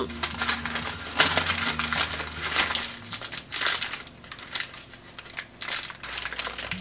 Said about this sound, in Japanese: 丸い型を持ってないのでオーブンシートを丸い形にしてやります。